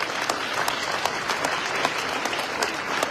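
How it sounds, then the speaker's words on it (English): Moderate applause from attendees at a foundation business forecast event, a steady wash of many hands with a few distinct sharper claps recurring through it. "Give him a round of applause."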